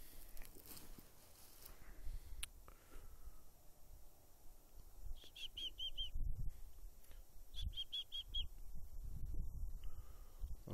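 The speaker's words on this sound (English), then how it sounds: "Got a little birdie." Small birds chirp in short, quick bursts near a tree on a disc golf course, faint against steady outdoor background noise, with no talking.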